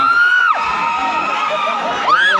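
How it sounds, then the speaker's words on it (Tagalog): A loud crowd of participants at a meet-and-greet in Laoag City shouting a phrase together in a sustained, strained group yell, nearby and filling the whole stretch. "ang pipilihin natin yung pinakamalakas sumigaw ng Motor Honda"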